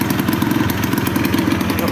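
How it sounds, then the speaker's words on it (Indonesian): A modified motorcycle engine with a crystal tone exhaust idles smoothly and steadily, a close, even, rapid putter that runs throughout without revving. "Mesinnya halus banget bos"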